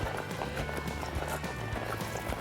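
Hoofbeats of a horse moving at an extended lope in a riding arena, a steady rhythmic clip-clop of repeated footfalls under a constant background, with no talk.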